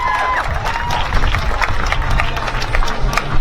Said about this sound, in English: please give a round of applause to Iqbal Muhammad.